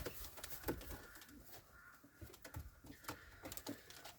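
Lemon-coloured sport pigeon cooing softly in a loft, low throaty coos repeating a few times at moderate distance over a steady background hiss with faint clatter.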